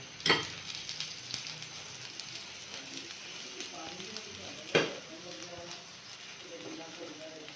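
Paratha frying in ghee in a pan, a soft steady sizzle with a couple of sharp clinks of utensil against the pan.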